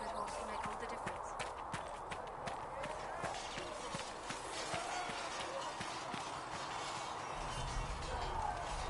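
Horse hooves clip-clop at a steady trot in Dragon Age Inquisition, with rhythmic footfalls running under spoken dialogue.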